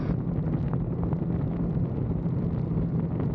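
Wind roar while riding a motorcycle on the freeway, a constant loud buffeting rumble against the microphone, steady and unbroken with low engine drone beneath.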